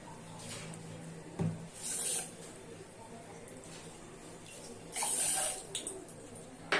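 Water is poured over a cup of sugar in a pot to make sugar syrup for sweet rosbora, in two short, close splashing bursts with quiet gaps between them.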